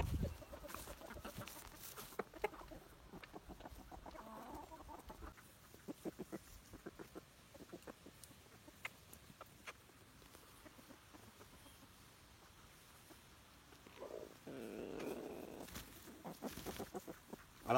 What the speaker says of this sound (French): on entend Tinto en train d'appeler les poules